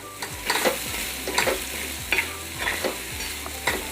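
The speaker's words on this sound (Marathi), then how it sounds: "मटकी ही व्यवस्थित अशी मसाल्यांमध्ये परतून घ्यायची आहे" Sprouted moth beans are stirred and sautéed in spices and hot oil for a curry, a steady close sizzle broken by repeated scraping stirs in an even rhythm.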